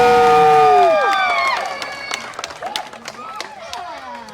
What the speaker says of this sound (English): pick one bird and one bird only and cheer as loud as you can